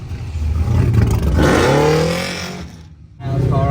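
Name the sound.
car engine being cranked and revving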